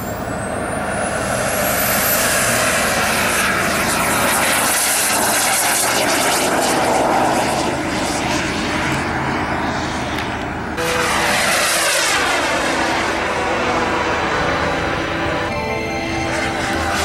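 A model jet airplane powered by an Ace X120 turbine flies at a Sacramento-area club field, its loud sustained whine roaring steadily and shifting in pitch as it passes, with no talk.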